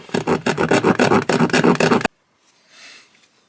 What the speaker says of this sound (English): Manual jigsaw for the win